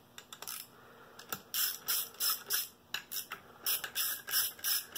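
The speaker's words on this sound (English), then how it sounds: "Now it's time to take these bolts out of here." Ratchet backing out the bolts on a HiSUN 250 performance clutch, quick bursts of close mechanical clicking in short repeated runs with brief pauses between them.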